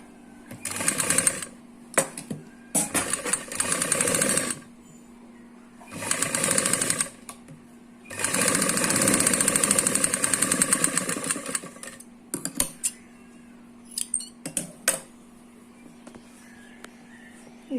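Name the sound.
sewing machine stitching a Punjabi suit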